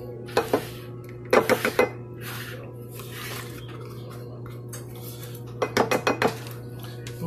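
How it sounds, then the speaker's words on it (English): A utensil clatters against a bowl in quick bursts of sharp clinks while orange juice and zest are mixed into the ingredients for orange knot dough. A steady hum sits underneath, and quieter stretches fall between the bursts. "Let's just get this all mixed together."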